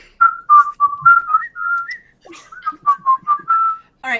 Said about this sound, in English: Therius is just whistling away.